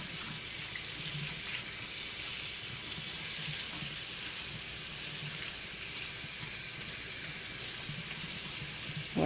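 Tap water runs hot into a sink in a continuous, even splash while water-soluble embroidery stabilizer is rinsed off a piece of cutwork embroidery under the stream, with no talking.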